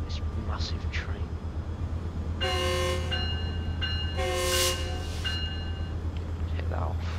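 Massive passenger train on the Antelope Valley Line in Train Sim World 4 idles with a steady low diesel rumble, then sounds two long multi-tone horn blasts in a row over continuous engine drone.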